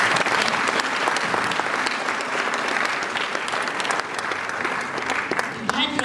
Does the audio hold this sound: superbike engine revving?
no